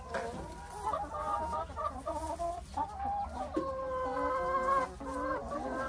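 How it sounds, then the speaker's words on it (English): Chickens clucking continuously nearby in a backyard coop during egg collection in Australia, several birds overlapping in a steady murmur of calls. "There's a chicken there, ha?"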